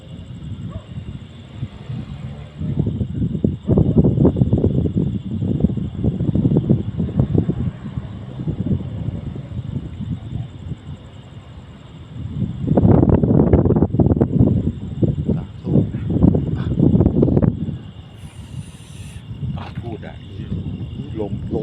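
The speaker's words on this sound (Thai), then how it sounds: "ลมแรงมาก" Strong wind gusting outdoors at night near a building, a broad roaring rush that swells and fades in surges, with people talking over it throughout.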